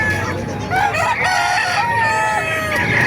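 Roosters crowing at a busy chicken market in Calumpit, Bulacan, long ringing calls overlapping from several birds at close and middle distance, with clucking and crowd murmur underneath.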